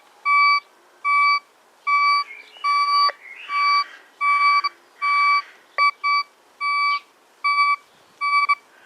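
Thracian metal detector emitting a high-pitched electronic beep during ground balancing, repeated about a dozen times in short regular bursts, with faint scraping and handling noise between beeps.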